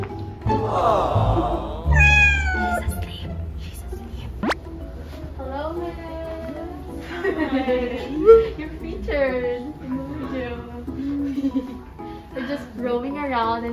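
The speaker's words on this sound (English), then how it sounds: "And what is Better Books without cats?" Cats meowing repeatedly inside a bookstore, several drawn-out mews at moderate distance mixed with people talking in the background, plus a brief sharp knock partway through.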